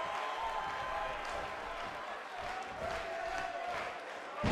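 Arena crowd at a professional wrestling event, a dense continuous roar of cheering and shouting with scattered whoops, loud and steady throughout and swelling slightly at the end.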